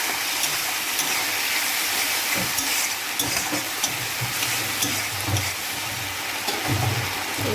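Ginger paste sizzling steadily in hot oil in a pan, with soft scraping stirs of a spoon throughout, close and continuous.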